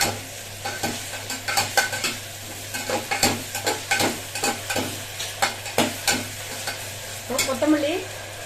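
Ginger garlic paste fries in a pan for a prawn fry biryani, a steady sizzle broken by repeated scraping stirs at an even rhythm, close and moderately loud with no talking.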